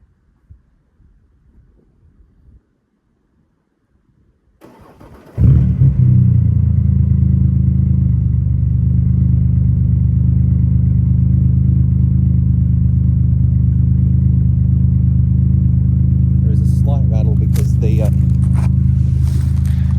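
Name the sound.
Ford Explorer starting and revving with loud exhaust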